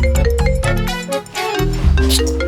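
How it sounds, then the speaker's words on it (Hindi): A phone rings with a bright melodic tune of stepped electronic tones, loud and close, repeating without pause and without any voices. "मैडम सर का फोन रुकने का नाम ही नहीं ले रहा है।"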